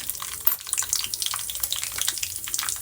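Mustard seeds and cumin sizzling in hot oil, a steady crackling hiss with scattered pops and spits running throughout, fairly close and moderately loud with no voices.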